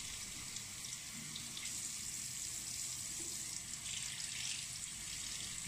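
Tap water streams over a hand at a basin in a steady, fairly quiet hiss and splash, with nothing else heard.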